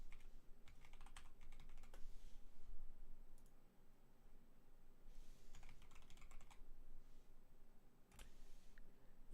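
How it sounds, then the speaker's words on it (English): Rapid computer keyboard typing mixed with sharp mouse clicks from a spare mouse during a Hypixel Skyblock session, bursts of close clicking separated by brief pauses, with no voices. "if my mouse clicks sound a little different, it's because I'm currently using a different mouse"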